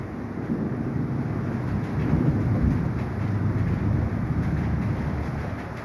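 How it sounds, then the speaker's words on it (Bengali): A continuous low rumble of thunder rolls on at midnight for several seconds, swelling slightly midway, with a faint wash of rain on a tin roof behind it. "শোনা যাচ্ছে মেঘের গর্জন"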